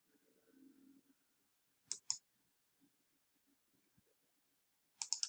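A computer mouse clicking near a quiet desk, a sharp pair of clicks followed later by a quick triple burst, with faint low handling sounds in between and no talking.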